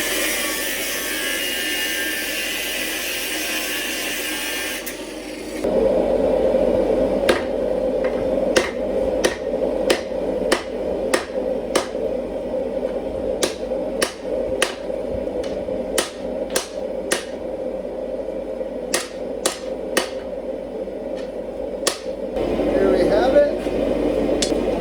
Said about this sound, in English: I'm going to straighten it out on the anvil and make a straight flat bar